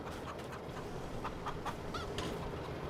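Chickens cluck and call softly in a farm pen in the video game Farming Simulator 22, scattered short clucks over a steady ambient background with no talk.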